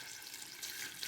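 Water pours steadily into a pot of soaked beans, a continuous splashing hiss with no break.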